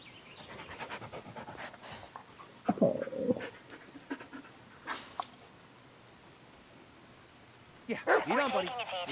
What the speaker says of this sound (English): I gotta pet him. He's a good dog.